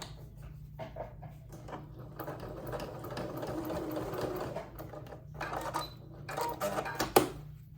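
A sewing machine stitches through fabric while a plush dragon is being finished, running in quiet, close bursts of rapid mechanical whirring separated by brief pauses and small clunks.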